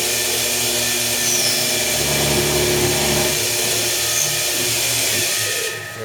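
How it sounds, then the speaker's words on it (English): An old end mill on a milling machine cuts steel with a continuous loud whirring drone and faint chatter. The sound holds steady for several seconds, then drops away at the end. "It's an old junky end mill anyway"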